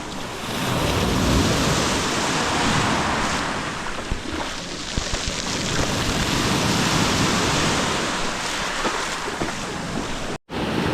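Rough sea waves wash continuously onto Amtar beach in Chefchaouen province, Morocco, a loud, broad surf with wind buffeting the microphone and a brief dropout near the end.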